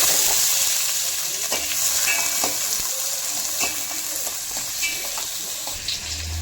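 Cumin seeds, fenugreek and onion frying in oil in a pan, a steady dense sizzle with a few scattered stirring knocks, close and fairly loud, no talking.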